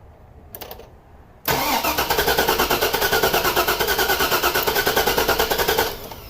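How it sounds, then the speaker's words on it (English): A 2004 Chevrolet Suburban 4x4 with a 6.0L V8 and a lifter bleed-down and valve sealing fault cranks with a rhythmic starter whir. The engine catches and runs loud and close with a steady pulsing beat for several seconds. "Try cranking this again."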